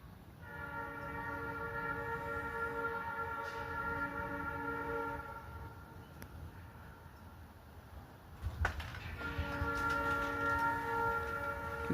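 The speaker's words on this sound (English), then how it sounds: "the Ohio Central Buckeye 250th train. Get ready to come through Newark again" The Ohio Central Buckeye 250th train passes through Newark, Ohio, its horn sounding in long sustained blasts, with a short break midway and then another long blast, over a steady rumble of rail cars.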